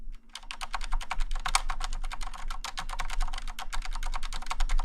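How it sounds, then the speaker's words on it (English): Rapid, steady typing on a mechanical keyboard fitted with Cherry MX Blue Silent switches: dense, even key clicks and taps, close and clear, continuing without pause and with no talk over them. "cherry blue silent. It's what I use on my keyboard."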